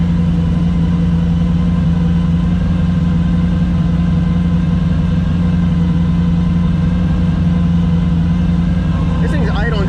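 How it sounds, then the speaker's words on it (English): A turbocharged Mustang race car set up for no-prep drag racing idles high and steady, a loud continuous engine drone with a lumpy beat, while people talk nearby over it. "This thing's idling good."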